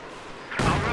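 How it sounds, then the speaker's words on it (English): Katyusha rocket artillery firing in a wartime strategy game, a single loud burst that cuts in abruptly after a quieter low rumble and stays strong to the end. "There's a Katyusha firing"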